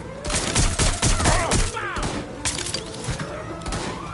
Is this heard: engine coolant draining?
no